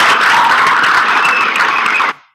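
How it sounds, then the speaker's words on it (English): Loud, close applause from the audience at the 2021 moot court upperclassmen competition, a brisk burst of many hands lasting about two seconds before cutting off abruptly. "A round of applause."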